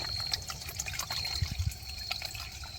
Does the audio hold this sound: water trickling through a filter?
yes